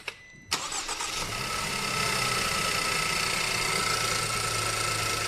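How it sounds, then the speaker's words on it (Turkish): A rebuilt Ford EcoBoost car engine is cranked by the starter and catches after a brief pause, then settles into a steady, loud, close idle that holds to the end. "Bismillah dedik bastık marşa."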